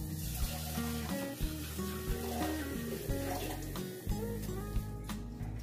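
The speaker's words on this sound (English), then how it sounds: "Now I'm going to wash my jar out with some water" Water runs and splashes steadily into a glass jar in a kitchen as it is rinsed out, a continuous close wash of pouring water that never stops.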